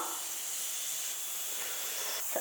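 Half a spoon of ghee heats in a pan as the base for drumstick leaf soup, giving a steady, close hiss that runs evenly throughout with no talk.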